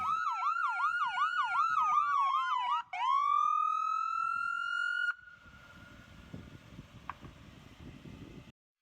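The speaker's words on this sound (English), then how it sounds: "Our standard ambulances have 3 siren sounds and our air horn." Calgary EMS ambulance siren cycling through modes: a rapid repeating yelp, then a sustained rising wail, then a fainter steady tone with scattered background noise. Loud and continuous, with no talk.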